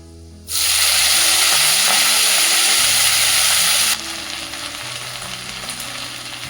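Fenugreek greens tossed into hot oil with browned garlic set off a loud, close, hissing sizzle that jumps in abruptly and holds steady, then eases slightly as the pan settles.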